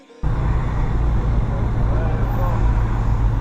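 A massive traffic jam in central Tirana, Albania, heard from inside a vehicle as a loud, steady low engine rumble and road noise that starts abruptly and holds throughout.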